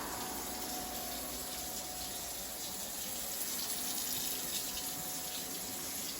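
Hot water runs from a tap into a large Rubbermaid bin, a steady, even gushing hiss that continues unbroken, moderately quiet and close.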